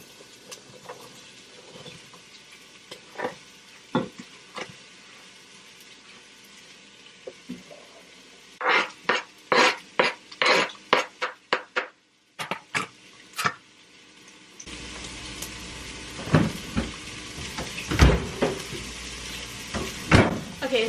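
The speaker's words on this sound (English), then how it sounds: "So we have the oil that is heated up, and then add, yep, the onions." Onions dropped into heated oil in a home kitchen for vegan black bean soup, with a sputtering, crackling sizzle that swells loud and steady near the end, preceded by sharp utensil clicks and clatter.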